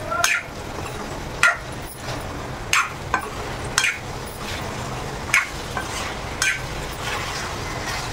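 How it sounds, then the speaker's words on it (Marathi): Soya chili is tossed with sauces in a pan. A utensil scrapes and clacks against the pan at irregular intervals over a low sizzle, close by, with no voices. "आता व्यवस्थितपैकी परतून घ्यायचं आहे. जेणेकरून आपण जे सॉस टाकले आहेत ते सॉस त्याच्यामध्ये मिक्स व्हायला पाहिजे."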